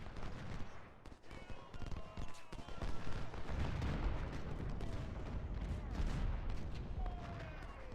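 Civil War musket volleys and artillery rumble from Ultimate General: Civil War fill a dense, continuous din of distant crackling gunfire and booms, steady throughout, with faint voices in the mix.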